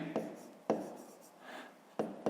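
Pen writing by hand on paper during a fifth-grade maths lesson, with three short scratchy strokes spaced apart over a couple of seconds, close and fairly quiet.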